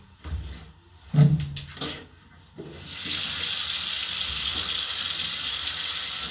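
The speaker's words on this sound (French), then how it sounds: "Je prends une belle douche." Shower water runs as a steady broadband hiss, starting after a few seconds of thumps and handling noises and then continuing evenly and fairly loud to the end.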